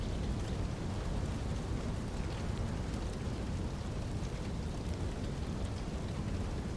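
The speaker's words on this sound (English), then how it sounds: "Oh, it's raining." Steady rainfall in a video game, a dense even hiss of falling rain with a low rumbling undertone, constant and unbroken with no voices.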